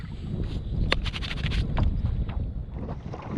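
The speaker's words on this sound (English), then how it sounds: "We got the wind, I think it's like a nor'easterly, and we got the tide running out, so it's all choppy up." Wind gusts and choppy water slap against a Hobie kayak on a choppy estuary with an outgoing tide and a nor'easterly wind, a steady close rush with wind buffeting the microphone and a few sharper splashes.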